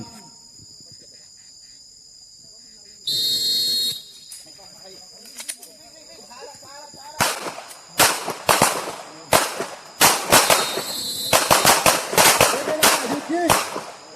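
Police tactical handgun and carbine shooting training on a range: a rapid series of sharp, loud gunshots, some closely paired, following a quieter stretch of faint background chirping.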